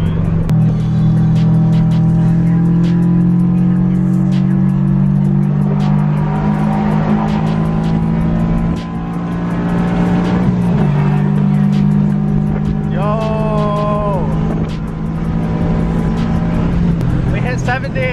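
Subaru BRZ with a full aftermarket exhaust of headers, over pipe, front pipe and catback, heard from inside while driving: a loud, deep, steady droning exhaust note that rises and shifts through gear changes, with people talking over it.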